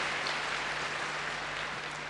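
Audience applause filling a hall during a youth festival event in Bozkır, Konya, a steady, even wash of clapping held at moderate level for the whole stretch, with a faint hum underneath.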